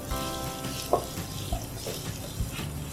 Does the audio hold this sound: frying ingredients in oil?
yes